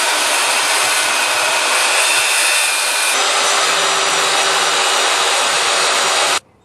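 A circular skill saw cuts steadily through a 2x12 deck stair stringer, a loud continuous high-pitched whine lasting about six seconds before stopping abruptly.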